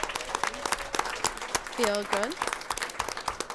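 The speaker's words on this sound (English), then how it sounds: "So if we could give him a round of applause" Scattered clapping from an audience at a school committee meeting, with voices talking over it and a brief melodic tone partway through.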